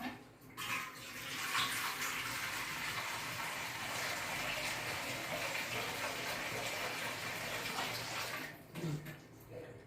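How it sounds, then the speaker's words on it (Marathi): Cold water pours steadily into a bowl for several seconds, a continuous close gushing that starts and stops abruptly, with no voices. "आता हे बघा हे थंड पाणी घेतलंय."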